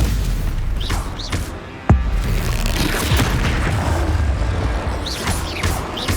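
A Bombarda spell blast in the Hogwarts Legacy video game gives a sharp booming impact over dense, noisy combat effects, with brief whooshing spell sounds around it.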